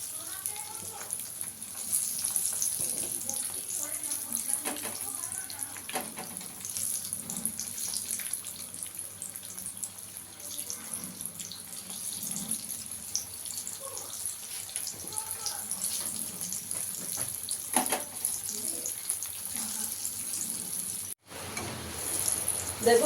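Egg fingers fry in hot oil with a continuous watery sizzle and light crackling, steady and moderately close, while a voice talks quietly over parts of it.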